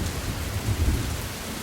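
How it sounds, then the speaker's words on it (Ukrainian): Steady rain falls through a long day into the evening, a dense continuous hiss with low rumbling beneath, close and unbroken with no voices. "От вже 9 година вечора, а дощик не перестає."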